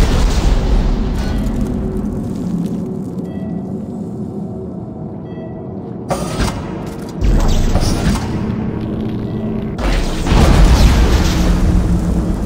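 A nitrogen trichloride tank blowing up in Dead Space 2, heard as loud booming blasts with a deep rumbling tail, a fresh burst around midway and another swell near the end, with no talking.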